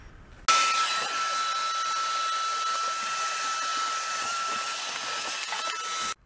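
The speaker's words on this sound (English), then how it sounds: "I'm gonna hit the cab with a vacuum real quick" A vacuum cleaner runs inside the cab of a Case 580 backhoe, starting abruptly and holding a steady, loud whine with a high tone for about six seconds before cutting off.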